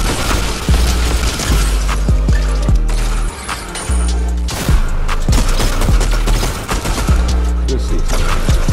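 Loud, dense gunfire and explosive booms in the Fortnite video game during a trios match, with repeated shots and blasts running throughout and voices talking over the action.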